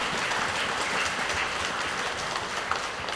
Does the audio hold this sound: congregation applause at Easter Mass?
yes